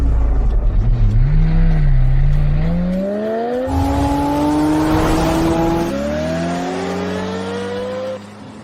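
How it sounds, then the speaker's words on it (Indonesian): A car drives by on a road, its engine tone rising and shifting as it passes close by, loud and continuous before trailing off near the end. "Hai Tong, lihat mobil dengan 5 angka 9 di depan?"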